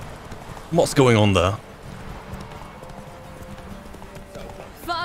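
Hooves clip-clop as the horse Roach gallops in The Witcher 3, a steady rhythmic beat under a brief burst of speech near the start, with a horse's short whinny-like call.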